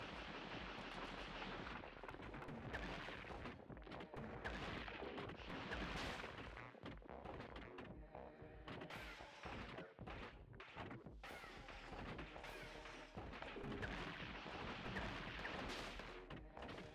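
Rockets fire repeatedly in Gato Roboto, a dense barrage of blasts and crashing impacts layered over game audio, continuous and loud throughout with no talking.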